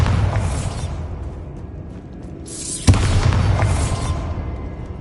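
A Bombarda blasting spell in Hogwarts Legacy goes off as one sharp, heavy boom about midway, set against a busy, rumbling game soundscape that swells and settles on either side.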